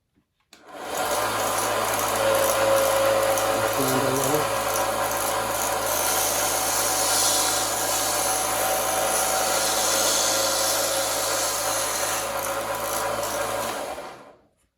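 A Grizzly H3140 1x30 belt sander whirs steadily on wood for about thirteen seconds, starting and stopping abruptly, with a loud constant motor hum and gritty abrasive hiss.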